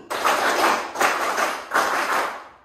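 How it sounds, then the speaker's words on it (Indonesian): Three bursts of group clapping in quick rhythmic patterns, each lasting under a second, with brief gaps between them; fairly loud and close. "Kita ulangi sekali lagi ya. Tepuk semangat."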